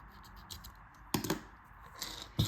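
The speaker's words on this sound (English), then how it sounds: "then you can cut off the yarn" Small scissors snip through crochet yarn in two or three quick, close cuts over faint rustling of hands working a small beaded flower earring.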